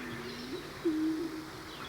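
European turtle dove cooing in a forested national park setting, a soft low repeated coo, moderately distant and fairly faint, with a steady sustained phrase over quiet background.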